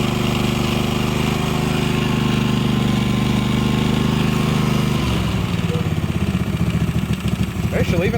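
A neglected 1998 Yazoo YTKC22 three-wheel mower engine with blow-by runs loud and steady close by, then drops to a rougher, uneven idle partway through.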